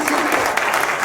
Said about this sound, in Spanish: ¿Cuánto les da un aplauso al Señor?